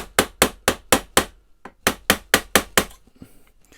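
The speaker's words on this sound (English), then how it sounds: "a little tap there, that might just do it" Hammer tapping on an old lever lock, about a dozen sharp metallic strikes in a quick regular rhythm with a brief pause midway, loud and close, then a faint rattle.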